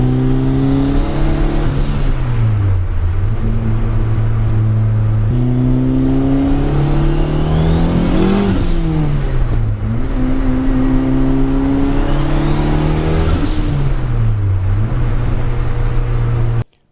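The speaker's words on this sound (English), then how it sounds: "Went ahead and took it for a test drive" A turbocharged Ford Escort on a test drive, heard loud and close from inside, revs up through the gears in repeated climbing pulls, each rise dropping back as it shifts, with a steady engine drone throughout.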